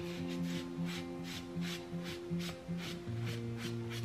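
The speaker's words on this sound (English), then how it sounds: "I might go grab my magic eraser really quick and see if I can't get some of those little scratches off." A magic eraser rubs back and forth against a decorative tiered tray to remove small scratches, giving soft rhythmic scrubbing strokes, close and quiet, with a steady background hum and music-like tones underneath.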